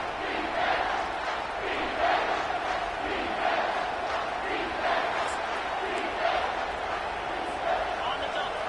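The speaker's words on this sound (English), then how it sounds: "3rd down, and this crowd is tearing the lid off this place." A football stadium crowd roars steadily through a third-down play, a dense, continuous wall of cheering and shouting that swells in waves and never drops out.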